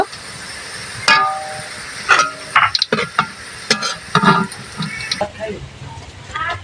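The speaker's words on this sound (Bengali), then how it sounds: "আমার পেঁয়াজগুলো আমি বাদামি বাদামি কালার করে ভেজে নিয়েছি এগুলো আমি ছেঁকে তুলে নেব" Onions fry in oil in a pan until browned for beresta pulao, a steady sizzle broken by sharp spatula scrapes and clatters, with a voice talking over the cooking.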